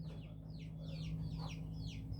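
A caged chicken clucks in a series of short, repeated calls over a steady low background hum.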